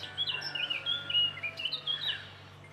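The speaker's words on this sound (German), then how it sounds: "Die Vögel unterstützen einen auch tatkräftig. Mit Gesang, Jubelschrei," Small birds chirping and tweeting outdoors, a quick run of bright, faint calls repeating over a steady low hum.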